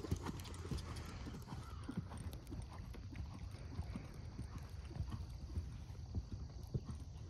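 A horse cantering during a jumping lesson, its hoofbeats thudding in a steady rolling three-beat rhythm over continuous background noise, fairly close and moderately loud, with no talking.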